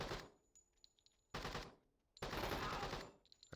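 Gunfire in the tactical game Door Kickers 2: two loud bursts of rapid automatic fire, a short one and then a longer sustained one, separated by a quiet pause with faint scattered shots.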